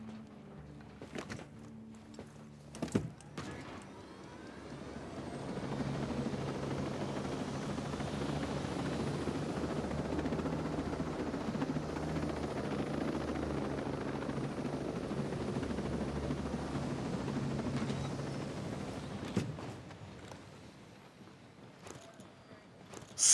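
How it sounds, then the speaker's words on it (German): A helicopter in the video game Ghost Recon Breakpoint gives off a steady, loud rotor-and-engine roar that holds for about twenty seconds before fading, with a few sharp clicks at the start and end. "Der Helikopter sieht auch geil aus."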